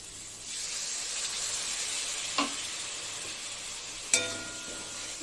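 Fried spice paste sizzles loudly in a pan as water from rinsing the mixer jar is poured in, giving a steady hiss broken by two sharp bursts of spitting steam.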